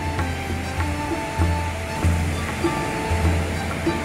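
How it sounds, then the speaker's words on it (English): Ocean waves wash onto a beach in Cagayan de Oro, a steady broadband rush with low rumbling surges every second or so, close and continuous, with no voices. "Enjoying the beach."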